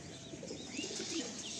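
A young female pigeon coos softly and steadily, a low close murmuring warble with faint chirps over quiet background noise.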